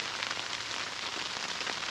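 Heavy rain pours down at a campsite during a downpour, a dense, steady hiss of drops drumming on surfaces, close and continuous with no voices.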